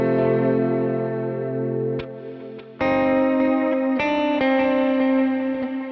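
Electric guitar run through effects with chorus, echo and distortion, heard in a mono in-ear mix; sustained chords ring out, drop away briefly near the middle, then return loud with fresh strums and a sour note.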